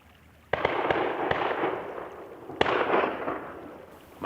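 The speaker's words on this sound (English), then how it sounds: "My neighbors are getting some shooting in." Distant gunshots from neighbors shooting near the Colorado River during late-season duck hunting, a few sharp cracks, the loudest around the middle, over a broad steady outdoor rush.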